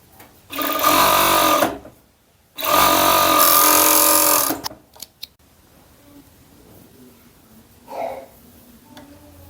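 A sewing machine stitches the shoulder seam of long-sleeved children's pyjamas in two loud, close, sustained whirring runs, followed by small handling clicks and quiet pauses.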